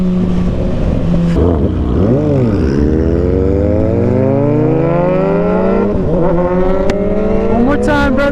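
A sport motorcycle, likely a 2021 Ninja ZX6R KRT Edition or a GSXR 600, revs loudly up and down as its rider pops wheelies, the engine pitch sweeping repeatedly under constant wind rush, with an excited voice briefly heard.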